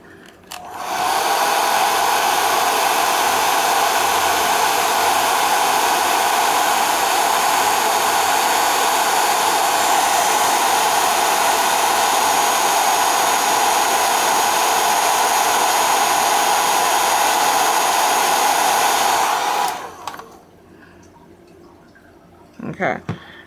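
A heat tool blows steadily for about twenty seconds to dry paint on a gingerbread ornament, a loud, even whooshing hum that starts abruptly and cuts off, followed by a brief quiet moment.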